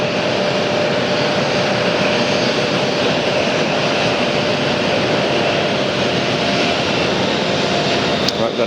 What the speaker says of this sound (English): got another Airbus here. This is a 321, which will be purely a Delta purchase.